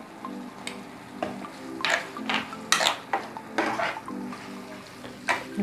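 Chilli pork with ground pepper being stirred in a pan, a spoon scraping and clinking against the metal in irregular strokes, close and moderately loud, with no one speaking.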